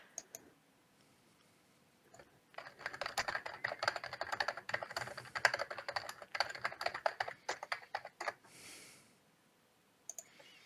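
Someone types rapidly on a computer keyboard, a dense run of close, crisp key clicks for several seconds, with quiet before and after and a brief pause near the end.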